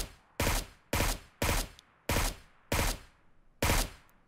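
Six loud, evenly spaced gunshots from the mobile battle royale PUBG Mobile, each a sharp crack with a short decaying tail, fired alone without talk.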